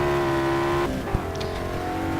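A BMW M3 accelerating in a racing video game: a steady, loud engine drone with layered tones that shift in pitch midway, broken by one short thump, with no talking.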